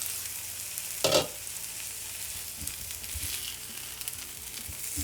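Eggplant slices fry in oil in a pan for baingan bhaja, giving a continuous close sizzle with a brief louder crackling burst early on and faint stirring clinks beneath.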